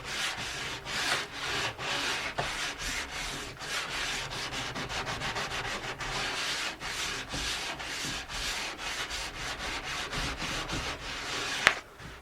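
Sandpaper is rubbed back and forth along the sidewall of an alpine ski in steady rhythmic strokes, a close scratchy rasp repeating for several seconds with a brief sharp knock near the end, with no talking.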